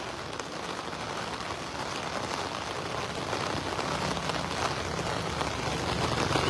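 Dense, steady downpour from Typhoon Carina hisses close by beside the Marikina River, a constant wash of rain on hard surfaces that swells a little over the seconds.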